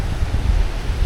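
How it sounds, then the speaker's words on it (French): Strong wind gusting at a river dam on a fishing outing, a steady low roar of buffeting air and microphone wind noise with a faint water-like wash beneath, no voices. "Oh, il y a beaucoup de vent."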